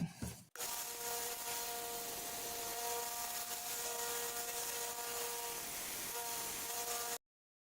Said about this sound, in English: while I've got the sander here, let's see, we're going to shape up that blade just a little bit.